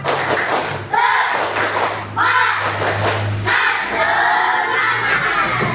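A fifth-grade class claps together in rhythmic bursts of a spirit clap, sharp patterned claps and thumps broken by short pauses, with children's voices shouting along.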